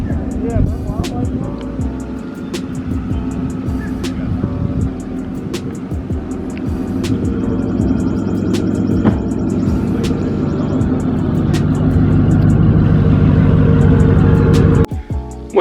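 Several Mitsubishi Eclipse cars drive past outside at a car meet, engines humming and revving loudly with sharp clicks and bursts, close and continuous, voices mixed in underneath.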